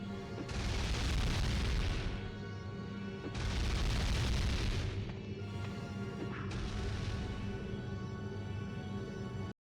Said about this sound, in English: throw a batarang at it, and it will just get stuck and play multiple layers of explosions at once